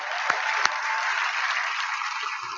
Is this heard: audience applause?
yes